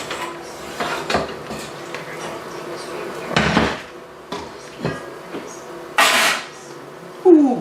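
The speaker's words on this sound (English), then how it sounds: "I'm going to take the lid off and apply the honey" A heavy lid comes off a Dutch oven holding a honey-glazed roasting Cornish hen: several sharp metallic clanks and scrapes of pot and lid, close and loud, separated by quieter pauses, with a final bright clatter.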